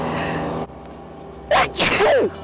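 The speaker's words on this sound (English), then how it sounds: "I'm trying to sneeze out the helmet." A single loud, explosive sneeze bursts out close to the microphone after a short quiet pause, followed by a sharp, breathy trailing gasp.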